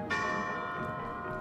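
A bell struck once in the video game BLUD, a loud ringing tone with a long sustained decay that hangs for over a second with no voices over it.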